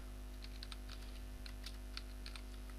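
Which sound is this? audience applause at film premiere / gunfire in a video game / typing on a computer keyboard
typing on a computer keyboard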